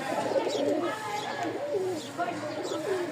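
A pair of pigeons, the male in full breeding heat, coo in soft repeated throaty phrases, close and fairly quiet, with murmured voices in the background.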